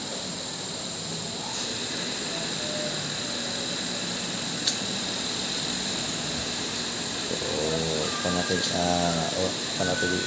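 Two DC fans running on a 12.8 V 120 Ah LiFePO4 battery give a steady, even whirring hum with faint tonal whine, and a brief voice surfaces near the end.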